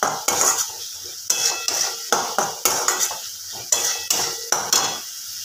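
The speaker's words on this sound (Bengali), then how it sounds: "মশলাটা কষে নেব।" A spatula scrapes and stirs spice paste in a metal pan on a gas flame for a potato and egg curry. About ten rhythmic scraping strokes ring out close and clear with faint sizzling beneath and no talking.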